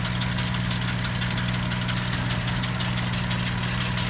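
Idling tractor engine in Farming Simulator 19, a steady low rumble with a constant throbbing beat. It runs alone at even loudness for the whole stretch.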